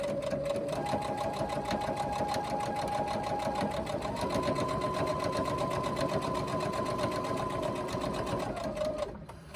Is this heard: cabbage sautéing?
no